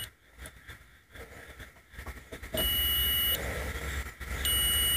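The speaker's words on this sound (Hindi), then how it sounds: "जिधर भी हम टच करते हैं मीटर, अलग अलग वैल्यू शो होता है और बीप करता है ये मीटर पे" A digital multimeter beeps as its probes touch the MOSFET pins on an e-rickshaw controller. Short taps and clicks come first, then a loud steady tone that starts, cuts off briefly, and resumes near the end.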